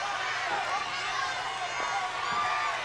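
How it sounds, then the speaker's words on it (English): A wrestling arena crowd cheering and roaring in a continuous wash of noise, loud and sustained across the whole stretch without clear breaks. "listen to this crowd"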